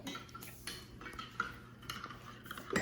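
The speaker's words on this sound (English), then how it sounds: "Okay, stir, stir, stir." A spoon stirs hot chocolate in a cup, giving a series of close, light clinks and scrapes against the sides over a few seconds, with no talk.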